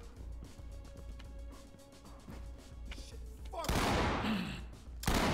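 Gunfire in the game Ready or Not: scattered distant shots early, then a louder burst of rapid shooting near the end, with brief talk in the background.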